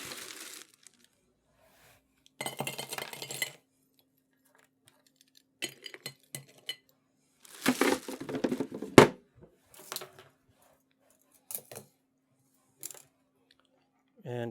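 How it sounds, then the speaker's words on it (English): Ice cubes clink and rattle into cocktail glasses for a cognac cocktail, several separate clattering bursts with quiet gaps between them, close and crisp. "Each glass gets some ice."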